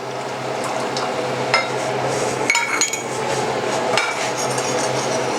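Spoon stirring cornstarch slurry into a lemon sauce for donut bread pudding in a pot: steady liquid swishing and scraping with a few light metallic clinks, close and continuous, no talking.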